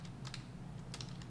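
Keys tapped on a computer keyboard in a few quick clusters, close and quiet over a steady low hum, with no talking.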